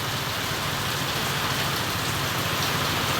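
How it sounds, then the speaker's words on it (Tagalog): Heavy rain pours down in a dense, unbroken hiss, drumming steadily on surfaces nearby with no pauses. "Grabe po, kalakas dito ngayon ng ulan"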